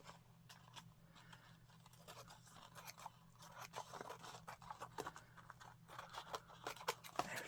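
Scissors trimming the edge of a paper serviette, a run of quiet, close snips and crisp cuts that grow busier and louder toward the end, with no voice.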